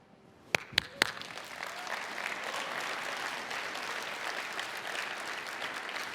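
Sustained audience applause at the 2016 BIO International Convention, opening with a few sharp near claps before swelling into steady, dense clapping from a large crowd that holds for several seconds.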